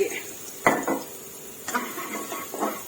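Onions being stir-fried in a pan, with scattered close scraping and knocking of a utensil against the pan over a faint sizzle.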